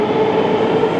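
Steady rumble of a Moscow Metro D-model train running, a continuous low droning hum with a faint whine, close and fairly loud.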